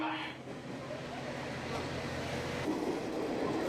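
A retro-style Sanriku Railway theme train in Aomori rumbles along, a continuous low rolling drone heard from inside the carriage, with faint background voices.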